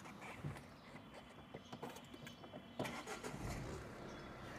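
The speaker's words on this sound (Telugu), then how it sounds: "సింగిల్ సెల్ఫ్లో స్టార్ట్ అయింది సార్" A 2018 Tata Nexon XZA+ diesel automatic cranks and fires on a single start, its brief starter whirr giving way to a steady diesel idle rumble that holds close and even to the end.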